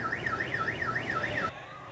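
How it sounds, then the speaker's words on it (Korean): A children's school-bus drop-off check device sounds its warning alarm inside a van, a loud, close siren sweeping up and down in a steady rapid cycle before cutting off. "차 시동을 끈 뒤 운전자가 곧바로 차에서 내리면 3분 뒤 경보음이 울립니다."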